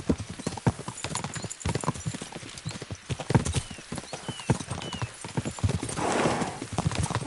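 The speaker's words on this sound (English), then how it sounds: "We should spur the horses on." Horses galloping in the medieval video game Kingdom Come: rapid, rhythmic hoofbeats clattering close by, with a brief whinny and some rushing noise near the end.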